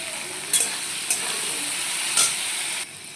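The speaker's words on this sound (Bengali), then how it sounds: "কুন্দুরিটা ভাজা হয়ে গেছে আমার" Ivy gourd (kundri) fries in a pan with a constant bright sizzle, broken by a few brief stirring scrapes, close and fairly loud with no voices.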